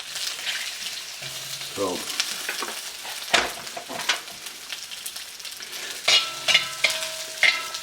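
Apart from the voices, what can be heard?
beef pieces frying and browning in a pan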